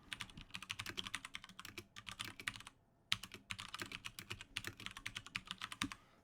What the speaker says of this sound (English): I type some words on my keyboard for you.